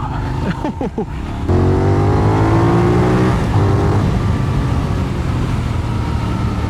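A Benelli 752S motorcycle engine revs hard and close, with a few quick throttle blips followed by a long, rising acceleration that holds a steady, throaty drone.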